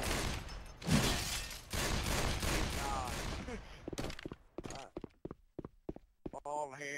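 Gunfire in the zombie shooter Left 4 Dead 2, dense overlapping bursts of shots for the first few seconds that break into sparse separate cracks, with voices talking over it.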